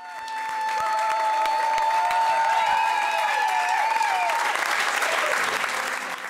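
A carnival crowd applauds the departing carnival majesty of the Rammstein Bruchkatzen club. Sustained clapping swells and holds for several seconds alongside some tonal whistle- or music-like notes, with voices faintly mixed in.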